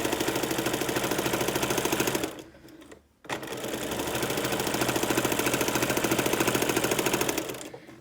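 Domestic sewing machine stitching a straight line through a cushion panel of Tula Pink fabric: loud, rapid, even mechanical chatter running steadily, pausing briefly around the middle before resuming at the same pace, then slowing to a stop.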